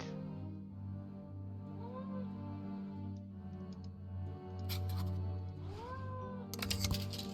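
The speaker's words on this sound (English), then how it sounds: "I think that is the cat." Cat meowing in the video game Nancy Drew: Mystery of the Seven Keys: two short, rising-and-falling meows over a steady background of in-game music and ambience, with brief clicks near the end.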